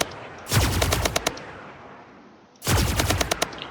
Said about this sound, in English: Carry carry on shooting until it overheats, right?